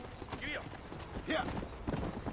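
Horse hooves clip-clopping in the Western video game Red Dead Redemption, a quiet steady beat under game voices and a faint whinny.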